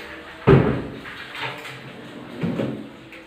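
A wardrobe's sliding door in a furnished two-bedroom apartment opens with a sharp knock, then rolls along its track with softer rumbling movements.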